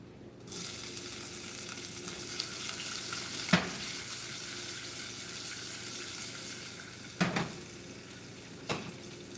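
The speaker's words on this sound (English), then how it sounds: "We're going to turn off the heat for a little bit because the garlic is burning" Garlic sizzles and crackles steadily in a hot pan while a cabbage lunch cooks, the hiss overheating toward burning, with a few sharp clatters of utensils or the pan breaking through the continuous frying noise.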